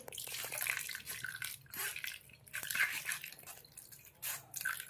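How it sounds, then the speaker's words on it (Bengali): Fresh chhana (cottage cheese), curdled with vinegar, rinsed by hand under small pours of water for rasgulla, giving a steady close splashing and trickling with soft squelches, rising and falling in bursts with no voices. "অল্প অল্প জল দিয়ে ছানাটাকে ভালো করে ধুয়ে নেব যাতে ভিনিগারে টক ভাবটা না থাকে"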